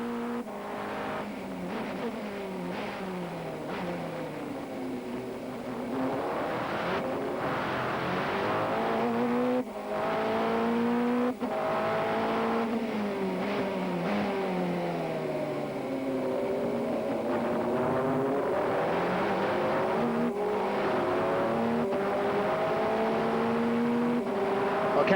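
Race cars in a 2001 American Le Mans Series event sweep through corners toward a hairpin, engines wailing with rising and falling pitch as they pass, a steady loud roar throughout with no talk.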